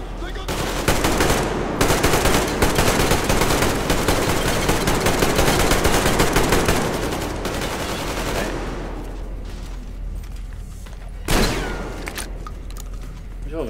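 Automatic weapons in the Metro Exodus Two Colonels DLC on Xbox One fire loud, rapid, continuous bursts that thin into scattered shots, with one sharp blast near the end.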